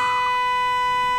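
A car horn blares in a comedy skit set in a taxi, one loud, continuous, steady honk right up close that lasts the whole moment without talk.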